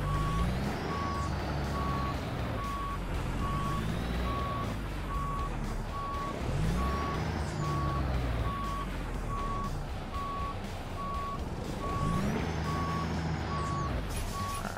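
A Peterbilt 389 truck in American Truck Simulator reverses with a steady, repeating backup beeper over a loud engine rumble, with periodic rising engine swells; no talking.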